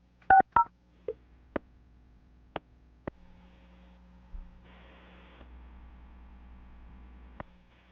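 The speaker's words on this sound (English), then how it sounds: "I'm going to dial the phone number right now" A phone number is dialed on a landline: a quick series of distinct touch-tone beeps, some short and some spaced apart, over a faint steady hum and line hiss, with a dial tone droning near the end and no voices.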